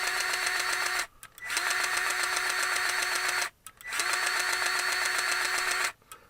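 A Milwaukee M18 cordless grease gun pumping grease, a loud, steady motorized whir running in three long bursts, each cut off by a brief near-silent pause before restarting.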